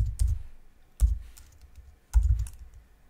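Three separate bursts of key taps on a computer keyboard, each a quick cluster of clicks with short pauses between, close and clear with no talking.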